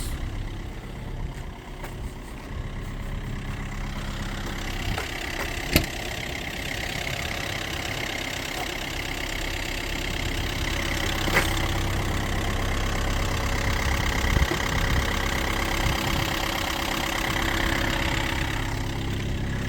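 A Linde H35D-02 forklift engine idling with a steady low rumble throughout, growing slightly louder partway through, with a few faint clicks.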